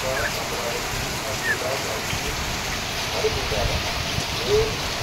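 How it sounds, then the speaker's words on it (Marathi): Heavy monsoon rain pours down in Mumbai in a steady, dense hiss, with a few faint bird calls barely audible through the downpour. "कसला धुवाधार पाऊस पडतो"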